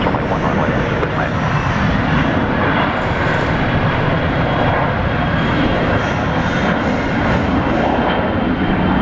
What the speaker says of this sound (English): let's have a look at this takeoff Jetstar 561 off to Melbourne this morning